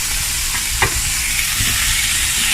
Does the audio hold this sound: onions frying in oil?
yes